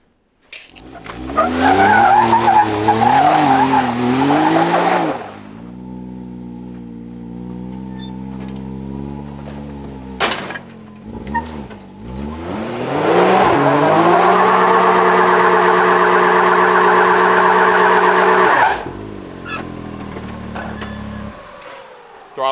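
A car engine with a stuck throttle roars loudly, holding high revs for several seconds, dropping to a steady idle-like drone, then surging back to a long sustained high-rev wail before cutting off.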